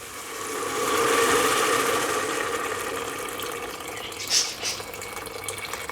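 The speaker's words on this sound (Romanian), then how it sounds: "Vom adăuga apă." Water pouring from a tap or jug into a pot of softened fried vegetables for Romanian lamb's quarters soup, a steady rushing splash swelling then easing, ending with a couple of small clinks.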